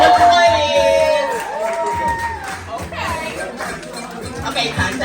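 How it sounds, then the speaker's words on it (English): A lively crowd cheers and chatters with shouts and whoops, a busy, energetic mix of voices with some clapping mixed in. "Give us some applause."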